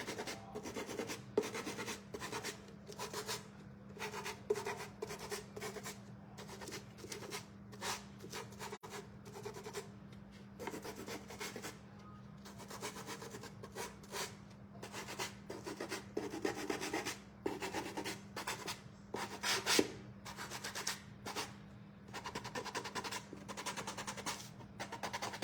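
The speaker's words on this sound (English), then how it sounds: "Now this is where you kind of want to sand little spots." Hand sanding of a wooden bird house by the paint-distressing stage: a steady, close rasping rub with short repeated strokes over a constant low hum, no talking.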